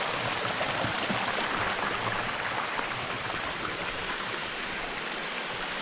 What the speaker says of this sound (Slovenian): Tole je divji potok pri Črmošnicah.